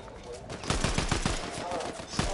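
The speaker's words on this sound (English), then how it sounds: "they shooting at me. It's a sniper." Gunfire in an online shooter video game, with a sniper firing at the player: a quick series of sharp, fairly loud cracks repeating every fraction of a second over steady game background noise, with a voice briefly audible.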